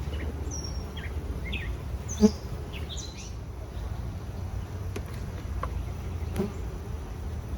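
A steady, dense hum of many honeybees buzzing close by in a hive during an inspection on a hot day, with a few individual bees whining past and faint chirps in the background.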